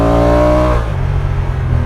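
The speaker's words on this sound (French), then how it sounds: "on entend quand même pas mal le moteur au régime" A Honda NT1100 twin-cylinder motorcycle engine, a 2022 bike, revs hard and loud up close, its rising tone holding for most of a second before dropping back to a steady, rumbling idle.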